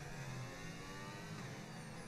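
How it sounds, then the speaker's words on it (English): A race car passes by during a practice session at the Singapore Grand Prix in the F1 25 video game, a steady close engine drone lasting about two seconds with no talk over it. "I don't know what was that car sound"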